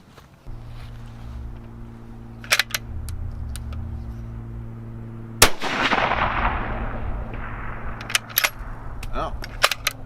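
A Bergara B14 HMR rifle in 6.5 Creedmoor fires at a shooting range with a tripod setup, one sharp loud shot standing out with a trailing echo, a few fainter cracks around it over steady low background hum.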